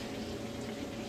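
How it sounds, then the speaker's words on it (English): Chicken stew with peas bubbling in a pot, a dense continuous simmering gurgle heard up close for about a second, with no talking. "my chicken is bubbling."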